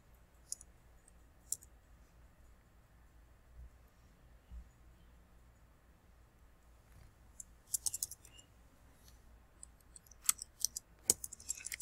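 Sparse keyboard clicks as a name is typed during a Supersnake game session, quiet isolated taps with longer gaps that cluster into a quick burst near the end.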